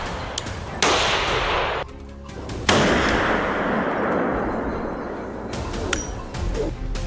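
Sharp gunshots crack out during a hunt for wild boar, each loud report followed by a long echoing tail, with several blasts spaced across the span.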